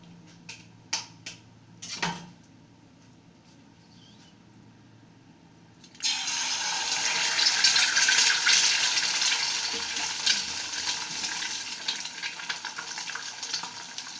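Egg frying in oil in a pan: a few sharp clicks and taps at first, then after a short quiet a loud, bright crackling sizzle that bursts in and keeps going steadily to the end.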